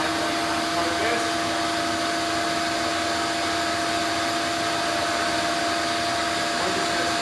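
A vacuum former runs with a steady, continuous whirring drone and constant tonal hum, loud and even throughout with no talking.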